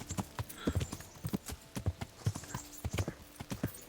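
Horse hooves clip-clop in a steady rhythmic gait in the medieval game Kingdom Come: Deliverance, sharp close hoofbeats repeating throughout with no talk over them.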